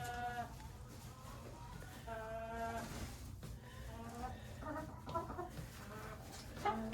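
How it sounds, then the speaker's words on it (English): Chickens cluck and murmur close by indoors on a cold day, scratching around with short harmonic calls over a steady low background. "Come on, chickies. Come on, scratch around."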